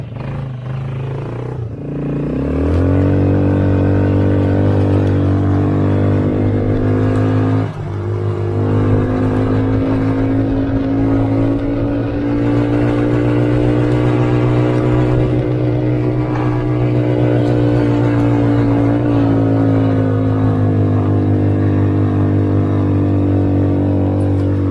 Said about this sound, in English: Put it into drive. Let's take it for a little test drive.